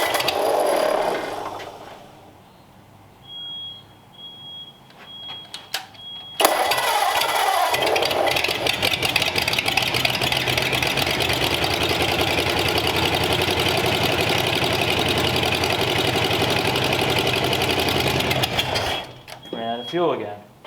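Abandoned flathead race engine cranking over and catching around six seconds in, then running loud and steady with a rough, busy roar before cutting out near the end; quieter idle-like mechanical sounds and handling noise come first, with people speaking nearby.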